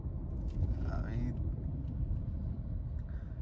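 Low, steady cabin rumble of a Volkswagen Virtus driving along as its DQ200 dual-clutch gearbox downshifts almost imperceptibly, with someone talking softly inside the car throughout.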